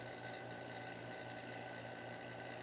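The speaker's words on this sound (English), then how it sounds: "Vacuum pump," A vacuum pump runs steadily for vacuum bagging resin, giving a continuous, fairly quiet mechanical hum and whir with no change in pace.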